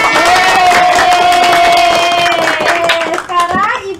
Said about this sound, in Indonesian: Aplaus untuk teman-teman